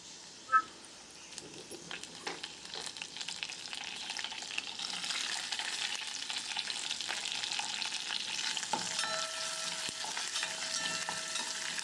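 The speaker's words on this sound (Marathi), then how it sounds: "हिरव्या मिरच्या आणि कांदा तेलावर छान परतून घ्या" Green chilies and chopped onion sautéing in hot oil, with garlic, for a mung dal and radish-leaf dish; a steady, moderately loud sizzle with occasional spoon scrapes and clinks against the pan, close by.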